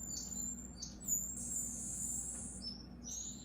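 Bright, high chirps and tweets from several small birds in an aviary overlapping continuously over a low steady hum.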